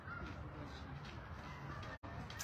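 Crows flying overhead outdoors, their caws faint and distant against steady background noise, with a brief gap in the sound near the end.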